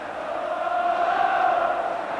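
A packed Ibrox stadium football crowd of about 43,500 on a sunny afternoon in 1989, Rangers against Aberdeen, produces a steady, distant murmur that swells slightly midway.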